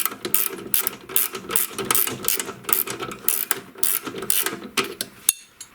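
A ratchet wrench clicks in rapid, uneven bursts while tightening the nut on a snowblower's gear shifter bolt. The strokes run steadily close up, with a brief pause near the end.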